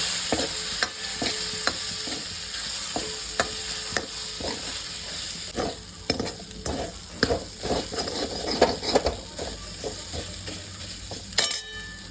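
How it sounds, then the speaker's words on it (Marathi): A spoon stirs grated coconut into a vegetable mixture frying in a pan, giving repeated scraping knocks in an irregular rhythm over a steady close sizzle, with no voices. "बारीक केलेलं खोबरं 2 चमचे टाकून घेऊया. सर्व मिक्स करून घेऊया."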